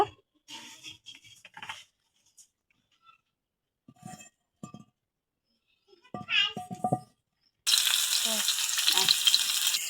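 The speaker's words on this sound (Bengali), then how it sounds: "চুলায় আমি তাওয়াটা বসাই দিই, তাওয়া বসাই দিছি। এখন অল্প করে তেল দিয়ে দিব।" Gourd leaf parcels with small fish are frying in a little oil on a tawa. Soft talk and light clinks come first, then a loud, steady sizzle fills the last couple of seconds.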